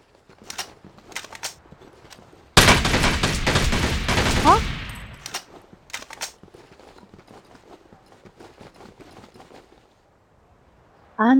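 Gunfire in the online shooter game Devil's Third Online: a loud sustained burst of rapid shots lasting a couple of seconds, framed by scattered quieter single shots and footstep-like clicks.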